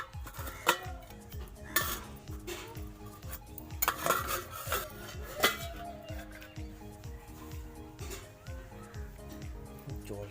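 A pot lid clatters open on a steaming pan of mustard hilsa, with metal dishes and utensils clinking close by amid a busy, cluttered kitchen clatter, and voices faintly in the background.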